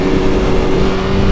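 A superbike engine lugging at low revs on a racetrack, a loud, steady, rough drone with a constant tone and no talking.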